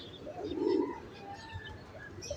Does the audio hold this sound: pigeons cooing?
yes